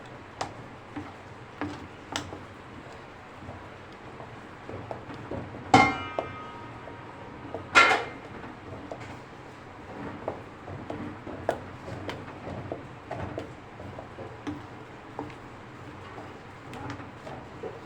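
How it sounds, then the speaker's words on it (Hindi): Cooked barley, wheat and chana dal for haleem are mashed in a pot, giving a long run of light, irregular tapping and clicking with two sharper knocks of the utensil against metal. "अब इसको हम घोटेंगे, और घोट के फिर इसके अंदर हम गोश्त डालेंगे"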